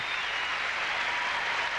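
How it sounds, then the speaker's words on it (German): A tennis crowd applauds a rally by Martina Navratilova in the 1993 Masters quarterfinal against Pierce, giving a steady, dense wash of clapping throughout. "Beifall aus beiden Lagern"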